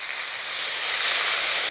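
Water hits a hot pan of fried green chillies and radhuni seeds, giving a loud, steady steam hiss that fills the moment close up with no talk.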